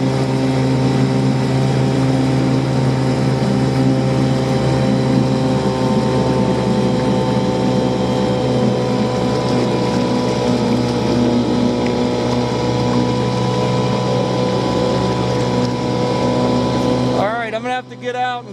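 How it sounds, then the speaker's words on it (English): An Evinrude/Johnson 4 to 6 hp outboard boat motor runs loud and steady close by for nearly the whole stretch, its droning hum unbroken until it cuts out near the end. "I'm gonna have to get out and kill the motor and push it in"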